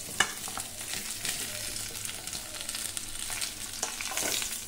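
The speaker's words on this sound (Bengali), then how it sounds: "আমগুলো খুব ভালো করে নাড়াচাড়া করে মিশিয়ে নেব।" Raw mango pieces frying in oil with dried red chilli and five-spice tempering, a constant close sizzle with soft stirring scrapes throughout, no voices.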